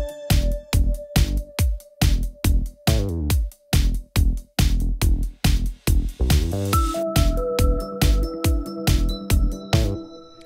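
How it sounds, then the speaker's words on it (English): Synth bass from Logic's ES Mono monophonic synth, played in a Logic Pro 11 bass session: loud, punchy repeated bass notes in a steady groove with a drum beat, with a higher synth line joining in partway through. "So now we have a nice synth bass"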